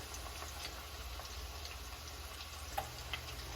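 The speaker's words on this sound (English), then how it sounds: "I think we could go ahead and flip these" Meatballs sizzle steadily in a large pan as they are flipped, a constant close frying hiss broken by a couple of faint ticks and clicks near the end.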